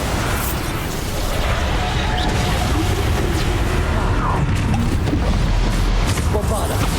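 Bombarda blasting spells exploding in Hogwarts Legacy, a dense, continuous rumble of booms and crashing bursts with a voice shouting over the battle noise throughout.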